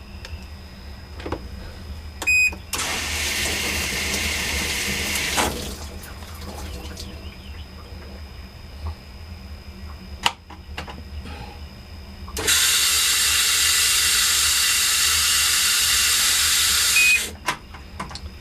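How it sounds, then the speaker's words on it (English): A Whirlpool Cabrio top-load washer with an F1 fault code running a rinse and spin cycle: two long steady bursts of loud rushing water, separated by a quieter stretch of faint clicks and machine hum. "let's try a rinse and spin."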